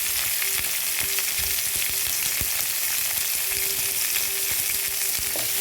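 Small shallots sauté in hot oil with a little salt, giving a steady, even sizzle close up with a few light scraping taps and no voices.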